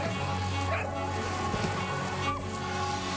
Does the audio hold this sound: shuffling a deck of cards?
no